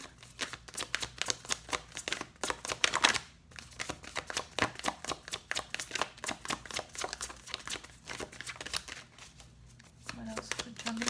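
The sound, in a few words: drawing tarot cards for Gemini reading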